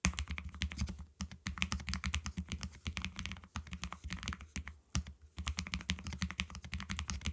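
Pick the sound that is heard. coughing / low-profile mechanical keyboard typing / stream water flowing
low-profile mechanical keyboard typing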